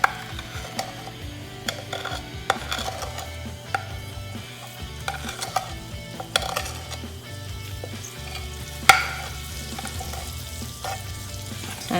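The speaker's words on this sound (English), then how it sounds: "I'm going to wait till oil heat. Then I'm going to add all my spices to this." Spices fry and sizzle in hot oil for a curry, a continuous crackling hiss close by with scattered pops and occasional clinks of a utensil, with no talking.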